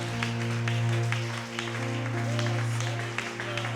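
A church congregation clapping in worship, dense rhythmic applause over a sustained low tonal drone, likely organ or keyboard, fairly loud and continuous.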